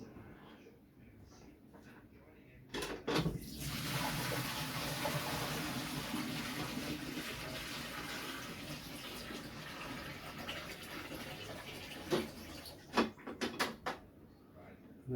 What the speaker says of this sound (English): Right, so then I'm going to tip this water away.